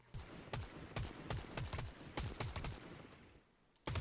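Rapid gunfire in the Fortnite video game, a run of sharp shots in quick succession with brief pauses, then a final shot after a short gap; no talking.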